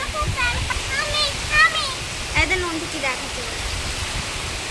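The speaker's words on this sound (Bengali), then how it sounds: "বৃষ্টি পড়ছে, তুমি ভিজবে, বৃষ্টিতে ভিজবে।" Rain pours down during a sudden afternoon storm, a steady broad hiss of falling water with people's voices chattering over it.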